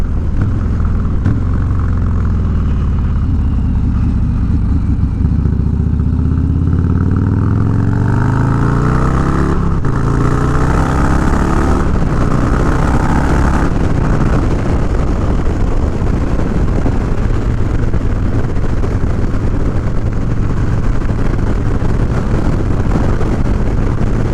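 A motorcycle cruising on a straight road, engine droning steadily under heavy wind rush, with shifts and rising revs partway through, close and continuous.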